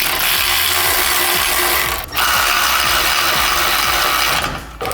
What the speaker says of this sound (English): I'm gonna tighten the bolts up here